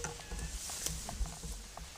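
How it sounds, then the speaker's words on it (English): Rain has just started outside a wartime concrete pillbox at night in Hornchurch Park, and it patters irregularly nearby, with scattered drips and taps over a soft, steady hiss and no voices. "bearing in mind it has just started raining"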